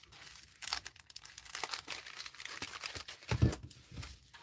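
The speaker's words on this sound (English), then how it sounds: "And tape it up." Packing tape is pulled and pressed onto a padded bubble mailer, giving a string of close crinkling, tearing and crackling bursts with a louder thump near the end, and no talking.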